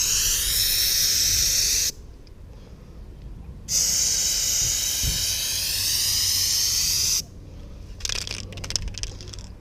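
Graffiti spray paint can fitted with a green 81 filling cap, spraying in loud steady hissing bursts: one long spray, a pause, a second long spray, then a more broken, sputtering burst at the end.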